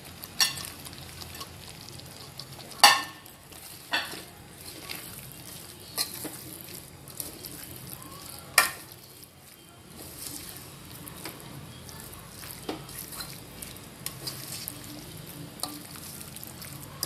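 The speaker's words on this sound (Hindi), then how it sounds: "अब मैं इसमें ये प्याज डाल दूंगी और ये शिमला मिर्च भी डाल दूंगी" Onions and bell peppers fry in cooked-down tomato paste over high heat for kadai paneer. The quiet sizzle carries occasional sharp clinks of a spoon stirring in the pan.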